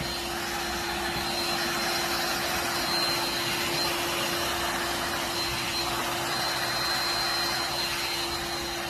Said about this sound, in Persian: و همین صورت راحت سشوارتون رو بزنید.